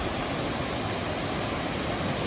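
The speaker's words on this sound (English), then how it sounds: "Pretty high volume of water flowing right there." Hebron Colony Falls, a waterfall carrying a high volume of water, roars as a steady, dense rush with no pauses, close and loud.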